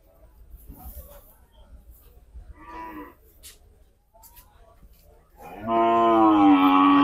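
Cattle low at a cattle market: a loud, drawn-out moo rises near the end, preceded by scattered faint voices and general market background.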